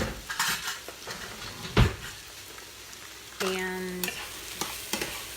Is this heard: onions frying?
yes